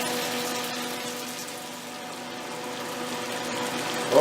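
Catfish fillets seasoned with Cajun spice fry in a pan, giving a steady, close sizzle that holds evenly throughout with no talk over it.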